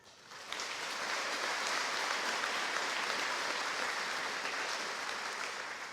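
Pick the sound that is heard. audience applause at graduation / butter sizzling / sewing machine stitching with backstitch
audience applause at graduation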